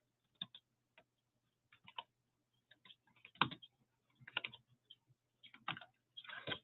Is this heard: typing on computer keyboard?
yes